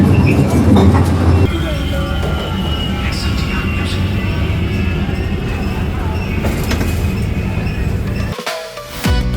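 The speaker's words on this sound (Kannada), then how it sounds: "ಎಷ್ಟು ಚೆನ್ನಾಗಿ ಹೋಗ್ತಾ ಇದೆ. ಟಾಯ್ ಟ್ರೈನ್ ಅಂತ ಅನ್ಸ್ತಾನೆ ಇಲ್ಲ." A toy train ride in Udaipur, Rajasthan, rumbles steadily along with continuous wheel noise and occasional squeals and clatter, loud and close. A person talks over it.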